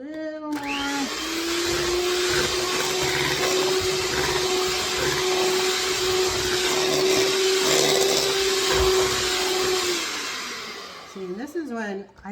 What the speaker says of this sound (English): because I'm using a hand mixer